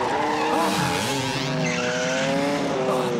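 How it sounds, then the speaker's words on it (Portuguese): In a Woody Woodpecker cartoon, engines rev loudly and tires squeal, with shifting pitched whines and continuous skidding close up. "É hora de aquecer os motores."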